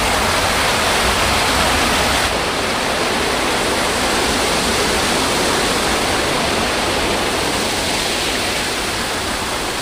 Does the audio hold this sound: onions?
no